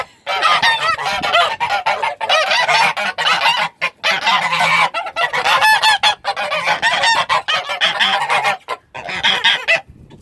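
Geese honk loudly and continuously on a homestead in Nova Scotia, Canada, in a cold week: a dense flock of overlapping calls close by with short gaps.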